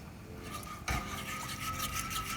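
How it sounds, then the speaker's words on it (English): A whisk scrapes and rasps steadily against a pan of Mornay sauce over a gas flame, a continuous close scratching with a brief sharper knock partway through. "And I'm going to get my whisk. I'm going to whisk it."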